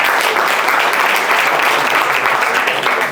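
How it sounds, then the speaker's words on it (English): Stand-up comedy audience in Amsterdam gives a steady, loud round of applause, dense clapping sustained throughout with no talk over it. "round of applause"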